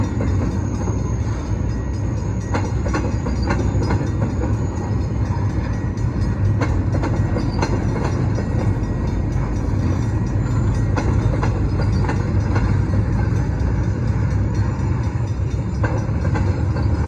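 An SLR rail train rolls past the Locke Mills Main Street crossing in Greenwood, Maine, a loud, steady rumble with repeated wheel clicks and faint high squeals throughout.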